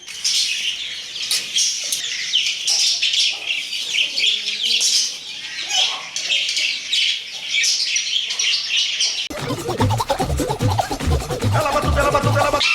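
Pigeons, a newly caught pair kept together, chirp and call steadily, with a denser burst of rustling and fluttering, like wings, toward the end.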